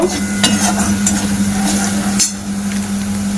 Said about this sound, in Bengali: হলুদ গুঁড়ো দিয়ে দেব, 1/2 চামচেরও কম, দিয়ে একটু নাড়াচাড়া করে নেব।